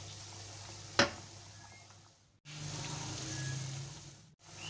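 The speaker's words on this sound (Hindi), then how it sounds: "सारे पकोड़े मैं टर्न करती जा रही हूँ। बहुत ही क्रिस्पी मज़ेदार प्याज के पकोड़े तैयार हो रहे हैं।" Onion pakoras sizzle and crackle steadily in hot frying oil as they are turned, the close, continuous fry broken by a sharp clink near the start and a short pause midway before the bubbling resumes.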